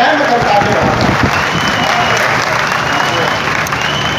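Steady, loud audience applause at a Hindi poetry recital during the Chakradhar festival in Raigarh, a continuous wash of many hands clapping with no break.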